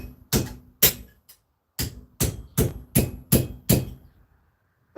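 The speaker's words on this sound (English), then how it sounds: "We're getting the hammer out." A hammer striking copper during home metal casting work: seven sharp, loud metallic blows in an uneven rhythm, close by, with short pauses between strikes and no talking.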